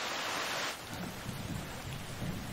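Rain falls steadily with a low rumble of thunder, a dense hiss that thins briefly before deeper rolling thunder and continuing rain carry on underneath.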